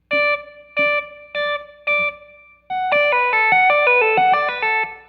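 Clean-toned electric guitar playing loud sustained notes, first four separate plucked notes then a faster legato run of connected pitches, ringing clearly with no other sounds.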